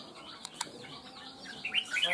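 A caged red-whiskered bulbul gives brief, bright chirps against a faint background, a couple of sharp notes early and a busier burst of calls at the end.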